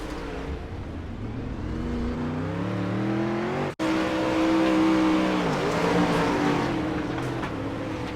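Onboard a 360 sprint car at a Charlotte dirt track, the engine drones loudly and steadily as it revs on a restart, pitch climbing and falling with the throttle, with one brief cut-out midway, no talk.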